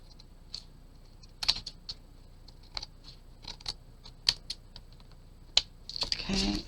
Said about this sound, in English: let's trim this and punch the holes